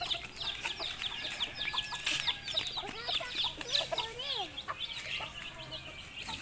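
Several chickens cluck and chatter close by in a farmyard, short overlapping calls rising and falling in an uneven, busy rhythm over a low background hum.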